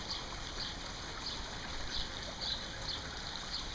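Water from a newly built backyard pond waterfall flows steadily in a soft, continuous rush and trickle, with faint birdsong chirping now and then in the background.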